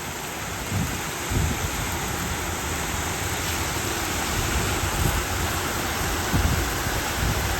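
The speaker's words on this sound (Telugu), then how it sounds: "అతి భారీ వర్షాలు పడుతున్నాయి 2 రోజుల నుంచి కువైట్లో" Heavy rain pours steadily in Kuwait, a dense, continuous hiss that stays loud and even throughout, with a few soft low thumps underneath and no voices.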